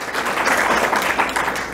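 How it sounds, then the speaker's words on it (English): Audience applause at a City Club of Chicago luncheon: loud, close, continuous clapping from a large room of guests, an even dense patter with no voices over it. "Can you give them a big round of applause?"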